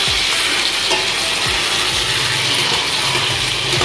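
Chilli paneer with tomato ketchup being stirred in a pan, a loud steady sizzle of frying with repeated scraping and clicking strokes of a spatula, no talk.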